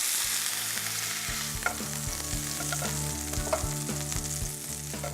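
A stuffed turkey breast sears in a hot pan with a steady, loud sizzle and crackle throughout, joined by occasional metallic scrapes and taps close by.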